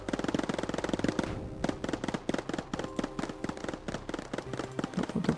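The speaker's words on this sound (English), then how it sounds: "Stop firing at me." Rapid, sustained bursts of enemy gunfire from hostile units in the Mindustry base-assault game on the Salt Flats map, dense overlapping shots crackling continuously over a low mechanical hum and music bed.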